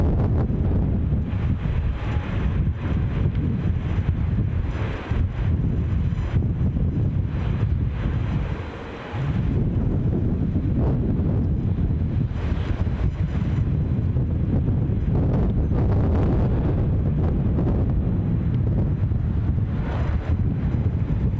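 Strong wind buffets the microphone at Edinburgh Airport, a loud, continuous roar of gusts that rises and falls over the whole stretch, dipping briefly midway before surging back.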